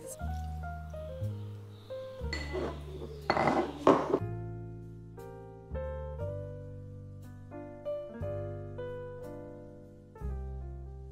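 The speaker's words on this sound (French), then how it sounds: "je vais mettre du lait d'avoine dedans et je vais mélanger avec la fraise" Oat milk stirred with leftover strawberries in a glass, a spoon clinking and ringing against the glass in scattered taps with a brief liquid pour and swirl near the middle.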